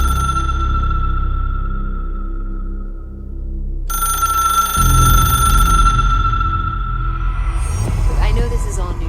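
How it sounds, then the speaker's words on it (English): An old-fashioned telephone rings in the game Control, its bright, repeating tone sounding over low droning music that swells and shifts beneath it. "It's ringing."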